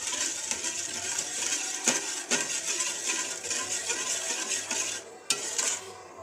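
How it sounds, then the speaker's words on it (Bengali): Payesh, a milk rice pudding, being stirred steadily in a pot, with a soft continuous scraping and swishing and a few sharp clinks of the spoon against the pot, no voices. "আমি এভাবে ঘন ঘন নাড়তে থাকবো।"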